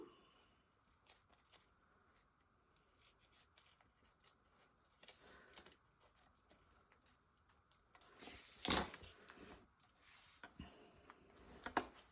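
Scissors cutting out a sticker, heard as quiet, scattered snips and crunchy paper cuts that grow louder and denser toward the end, close up with no talk.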